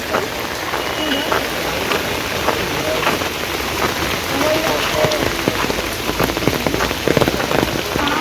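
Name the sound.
heavy rain falling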